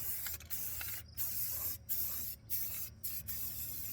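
Aerosol spray paint on slotted brake rotors for an LS1 brake swap: short hissing spray bursts at close range with brief pauses between them, no speech.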